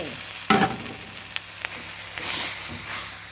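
Marinated pork for a panang curry hits a hot pan with a loud burst of frying and sizzling, then settles into a steady hiss with a few soft stirring scrapes, close up and with no talking.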